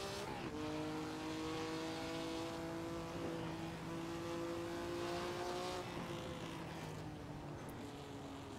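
A Ferrari Testarossa engine in the racing game Assetto Corsa on a wet track, a steady droning engine note holding pitch with a slight rise and dip, quiet and continuous.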